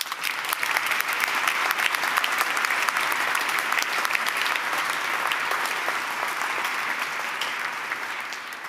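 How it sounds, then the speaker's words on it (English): Sustained applause from an audience honouring award nominees at a university anniversary ceremony, dense and steady clapping that fills the whole stretch and fades only slightly near the end. "All these nominees deserve a round of applause."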